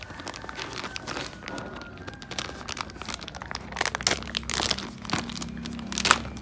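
Plastic packaging around a Thai-made motorcycle chain and sprocket set crinkles and rips in a steady run of close crackles and tearing bursts, growing sharper toward the end, with no talking.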